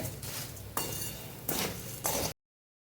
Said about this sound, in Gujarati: ગેસ આપણો ધીમો જ છે મસાલા સાથે મમરાને સરસ મિક્સ કરી લેવાના છે